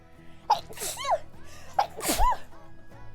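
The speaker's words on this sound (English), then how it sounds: "Oh no. I sneeze." Two sneezes in a row, each with a sharp inhaled lead-in and a loud burst, close up and otherwise quiet.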